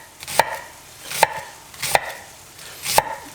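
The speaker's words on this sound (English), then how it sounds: "here's how I like doing dicing my onions" A knife dices an onion on a cutting board in a home kitchen with four distinct chopping thuds at an unhurried, slightly uneven pace. The cuts are close and clear, with no talk.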